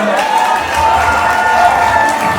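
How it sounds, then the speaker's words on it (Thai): Live concert crowd at a pop show at TopForm, a thick roar of clapping mixed with cheering voices, loud and continuous with tonal shouts riding over the applause. "ปรมือให้ตัวเองหน่อยได้ไหมฮะ"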